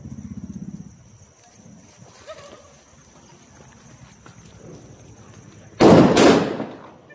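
A Diwali firecracker goes off with one loud, close burst near the end after quieter crackling and background noise, the blast roaring briefly before fading.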